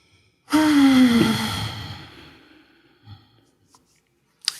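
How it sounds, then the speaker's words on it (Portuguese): A single deep abdominal breath is drawn and released as a long, loud, close exhale that slowly fades over about two seconds, followed by quieter breath and small movement noises. "aproveita para fazer uma respiração profunda, abdominal e relaxante"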